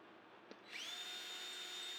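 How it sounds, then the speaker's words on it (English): A power drill spins up with a rising whine and settles into a steady high drone as it bores holes through a wooden shelf top for a model railroad layout valance, close and loud over a faint background hum. "here I'm just drilling the holes through the top of the shelf so I could mount that to the brackets"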